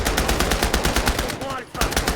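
An MP40 submachine gun fires in rapid, evenly spaced bursts in a multiplayer video game, loud and close, with a brief gap before the shooting resumes.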